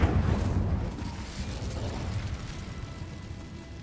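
An Incendio fire spell is cast in a cave in the Hogwarts Legacy video game, opening with a loud bursting whoosh that settles into a sustained crackling roar of flame, close, with no speech.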